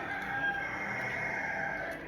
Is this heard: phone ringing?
no